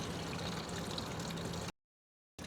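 Fuel pouring from a Yamaha XMAX scooter's fuel line during a fuel filter change: a steady, close splashing gush for under two seconds, then abrupt silence before the flow resumes briefly.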